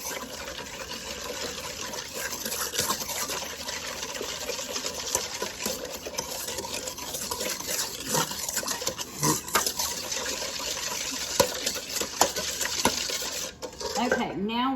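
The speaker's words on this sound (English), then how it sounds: "We are going to blend our milk with our sugar." A pastry whisk beats milk and sugar in a bowl for cinnamon roll dough, a steady, fast, close scraping and clinking that runs without a break, with no voices.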